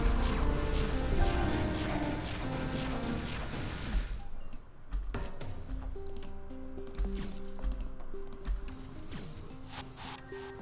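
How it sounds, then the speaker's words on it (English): Ship weapons fire a volley of shots in the space game FTL: Multiverse, with dense clattering bursts and impacts over a bed of electronic tones and music, loud and busy throughout with no voices. "I'm firing 4, 7, 9, 11 shots and like 2 get through."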